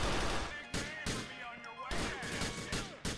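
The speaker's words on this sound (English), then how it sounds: "Why are you walking into the gunfire?" Gunfire in Grand Theft Auto IV: The Lost and Damned, rapid, repeated loud shots cracking in quick succession over a steady game soundscape, with a voice talking at times.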